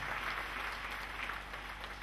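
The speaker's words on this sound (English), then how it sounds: "Clap for Lord Jesus Christ." A church congregation claps for Jesus during a prophet's sermon, a steady wash of many hands clapping together, somewhat distant and fairly quiet in the hall.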